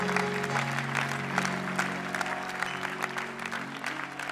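A church congregation claps and cheers for the Lord, sustained applause from a crowd layered over held musical tones from instruments in the background.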